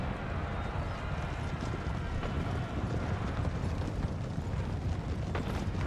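Cavalry horses gallop in the strategy game Empire: Total War, a dense rumble of hooves mixed with battle noise, steady and fairly loud throughout.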